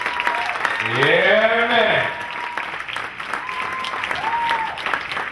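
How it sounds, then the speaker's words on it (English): An audience applauds professional ballroom dancers at a dance competition event, sustained clapping filling the room while a voice calls out briefly over it. "put your hands together, ladies and gentlemen, make some noise for these professionals"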